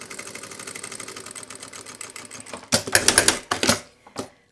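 A sewing machine runs a short seam through fabric on a fabric passport wallet, a rapid steady mechanical rattle of stitching followed by a few louder clunks and knocks as the work is handled.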